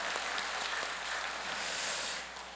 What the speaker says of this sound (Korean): 감사의 박수 다시 한번 보내드리겠습니다